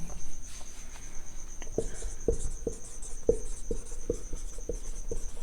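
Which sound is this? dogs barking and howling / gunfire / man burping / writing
writing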